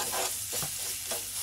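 Garlic curry fries in ghee in a pan and gets stirred. A steady close sizzle runs throughout, with soft scraping strokes of the spoon roughly every half second and no voices.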